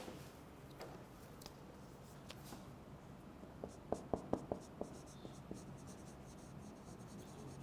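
Chalk or marker writing on a board during a lecture, heard as a quick run of sharp taps and scrapes over a low room hum.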